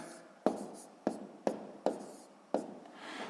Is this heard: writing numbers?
yes